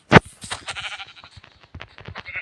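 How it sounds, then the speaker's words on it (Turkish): A sheep in Minecraft bleats after a sharp click, followed by a string of faint, choppy game sounds. "abi bir tane koyun var"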